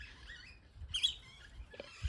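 Birds in a fall vegetable garden with pepper plants give faint, high chirps and a couple of brief calls against quiet outdoor background, heard at a distance with no talking.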